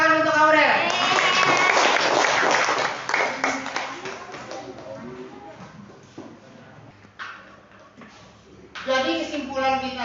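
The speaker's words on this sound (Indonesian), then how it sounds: "Tepuk tangan untuk Aurel." Students in a classroom applaud a classmate who earned a perfect score, a burst of close clapping with voices mixed in that thins out midway, then talk resumes.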